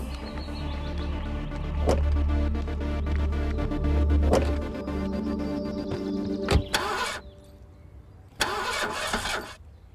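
A car engine cranks and turns over in short bursts, with sharp catches and a low rumble running underneath, at close range, with no talk heard.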